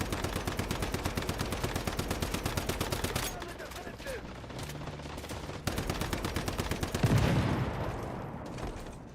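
A magazine emptied in the Once Human video game, a rapid rhythmic stream of loud shots that pauses briefly and then resumes in a second long burst, with a voice talking faintly underneath.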